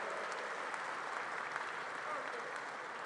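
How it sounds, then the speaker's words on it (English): Steady, dense applause from a large crowd at a political rally, sustained and even throughout with no talk rising above it. "So let's give her a round of applause."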